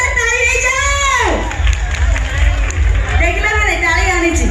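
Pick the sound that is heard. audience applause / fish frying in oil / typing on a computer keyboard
audience applause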